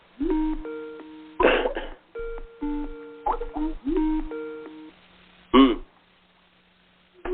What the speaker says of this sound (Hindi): वो इंडिया से फोन आ रहा है